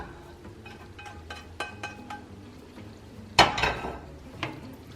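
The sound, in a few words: cooked ground beef added and mixed into marinara in pot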